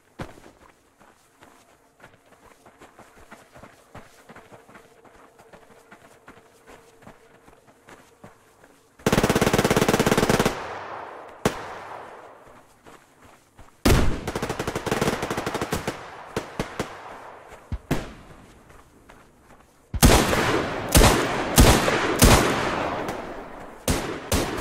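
Colt Python revolver fire in the game Survarium, heard as loud, sharp bursts of repeated shots separated by quieter stretches of footsteps and movement, with firing growing denser toward the end.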